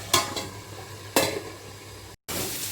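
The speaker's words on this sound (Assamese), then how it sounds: "এতিয়া মোৰ চিকেনখিনি এবাৰ লৰাই দিছোঁ।" A spoon stirs chicken curry in a frying pan over gentle sizzling, with a few distinct scraping strokes spaced about a second apart and a brief dropout near the end.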